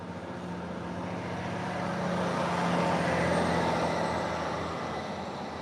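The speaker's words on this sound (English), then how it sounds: "Sounds heavy. Heavy goods." A heavy goods vehicle passes on a road, its broad rumbling roar swelling to a peak midway and then fading, heard from the roadside at moderate volume.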